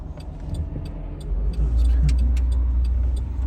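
A car drives past on a street in Riviera Beach, Florida, on an afternoon. The engine rumble swells from moderate to loud and close, with light ticking and rattling on top, and no voices.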